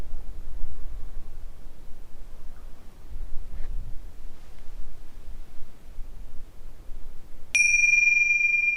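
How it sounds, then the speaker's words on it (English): Near the end, a single bright strike of small tingsha cymbals rings out clear and high, sustaining over a soft background hiss after long quiet. "know that I'll be ringing the tingshes in a moment."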